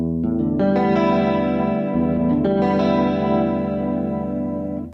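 Guitar chords ring out and sustain, strummed twice, with a shimmering, effects-laden tone that fades slightly at the end.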